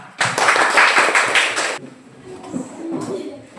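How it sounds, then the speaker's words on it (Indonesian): A burst of applause from a group, loud and dense for about a second and a half, then it stops and quiet room murmur continues. "Silakan tepuk tangan."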